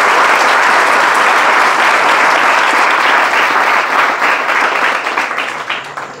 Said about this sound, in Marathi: ह्या टाळ्या कशासाठी माहिती का, बाहेर जाण्यासाठी